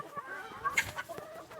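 A hen clucks a few times nearby, with short, soft calls breaking into a brief louder squawk in the middle. The setting is a bird shelter where people are setting up a light, and there is no talk during the sounds.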